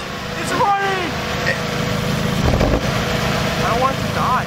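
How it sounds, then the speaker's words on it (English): A Mazda Miata's engine idles steadily just after being restarted, a low rough rumble with a slight shake, sitting under excited voices talking close by. "It's idling. That's idle."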